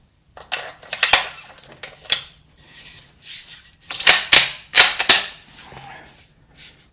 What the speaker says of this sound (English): So of course first we have to insert the bolt.